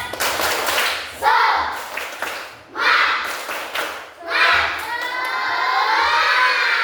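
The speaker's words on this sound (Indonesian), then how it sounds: "Tepuk semangat dulu" Schoolchildren in a Catholic religion class perform a rhythmic clapping chant, several loud bursts of shouting voices and sharp claps separated by short pauses, ending in a sustained chorus of children's voices.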